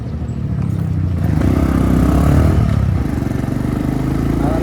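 A Honda CB110 motorcycle riding downhill, its engine putting out a steady, rough mid-pitched drone with clattering texture that swells slightly in the middle, close and continuous.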